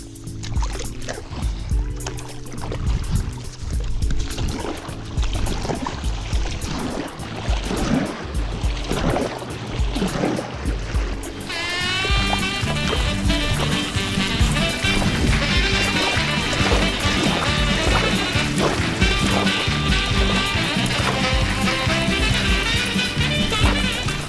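Stand-up paddleboard strokes on open water from a Sea Gods Skylla CX board, a steady run of splashing paddle catches with water wash, later joined by a louder, brighter layer of sound.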